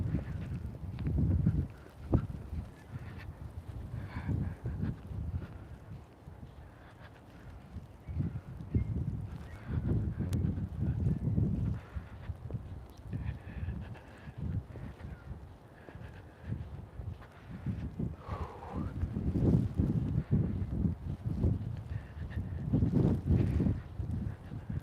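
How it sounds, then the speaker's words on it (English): Outdoor wind gusts rumble against the microphone on a walk, low buffeting that swells and fades in uneven waves with scattered knocks and rustles, fairly close and constant without speech. "the wind started to pick up."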